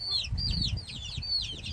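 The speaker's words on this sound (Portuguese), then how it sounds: "Os pintinhos lá de dona Anitta e seu José" Chicks and chickens in a henhouse keep up a steady chorus of high, repeated peeping chirps over low clucking and rustling, close and continuous.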